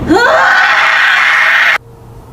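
A woman in labor lets out a single loud, sustained scream of distress that rises sharply in pitch, holds for under two seconds, then cuts off abruptly into quiet room tone.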